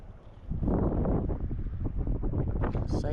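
Wind gusting and buffeting the microphone beside the San Juan River, a steady loud rush of broadband noise that swells after a quiet start and stays strong to the end.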